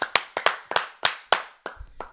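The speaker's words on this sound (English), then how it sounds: "Clap it up for Sebastian Castro." A few people clap for a young football player, about eight sharp, separate claps spaced unevenly over two seconds, close and fairly loud, with no talking.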